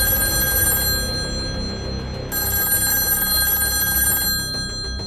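A telephone bell rings loudly for a call to a police control room, two bursts of repeated ringing separated by a short pause, heard alone and close.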